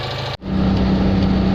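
A Citroen 2CV's small engine runs steadily and close by, a continuous mid-pitched drone with a steady hum, briefly cut by a short dip before settling back to an even, loud idle-like rumble.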